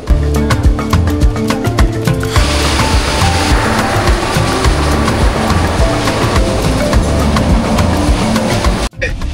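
A passenger express train running on rails, heard loud and close from near the door: a dense, rushing roar of engine and wind with rapid rhythmic clicks early on, ending in a sharp jolt.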